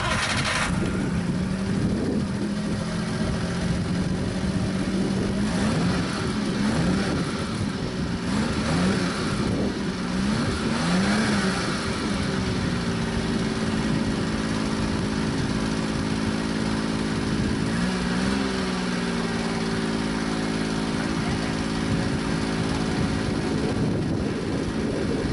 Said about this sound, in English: we'll go ahead and crank the truck up and let you hear it with a stock muffler